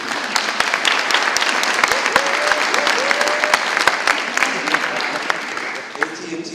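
Applause at a corporate panel event with AT&T in Boston, a crowd clapping steadily with distinct sharp individual claps standing out near the front, while a voice is briefly heard over it.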